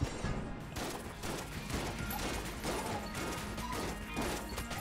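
A dense, continuous barrage of enemy gunfire in the game Enter the Gungeon, rapid overlapping shots and crashing impacts rattling steadily throughout at moderate level, with no speech.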